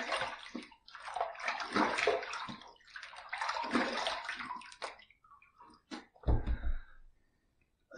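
After shaving, a razor is rinsed in water, giving several close bursts of swishing and sloshing in irregular waves, then a few faint drips and a short heavier splash before it quiets down.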